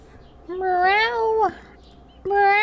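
A person imitates a cat's meow with a long, wavering mew followed by the start of a second, both loud and close against a quiet room.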